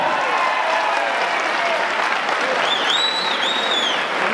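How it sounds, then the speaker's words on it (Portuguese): A crowd applauds loudly and continuously for two repentista singers at a Brazilian improvised-verse challenge, with a few cheers and whistles cutting through the steady clapping. "Merecem todos os aplausos do mundo, de verdade."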